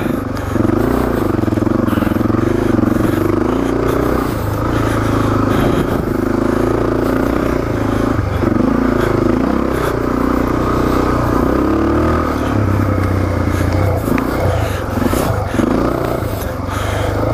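Suzuki DRZ400S dirt bike thumps over a run of whoops, its engine revving up and down in pulses as the worn suspension clatters and scrapes, loud and close throughout.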